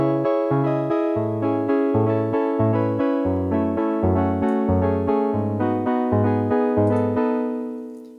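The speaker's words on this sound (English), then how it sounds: "So first up is a kind of piano patch," Piano-style preset on the Helm open-source software synthesizer playing a steady sequence of clear plucked notes with a bass line, about two notes per second, fading at the end.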